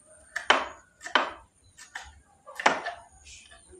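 A knife slices green chilies diagonally on a cutting board, producing a few crisp, separate chops with short gaps between them, close by in a quiet kitchen.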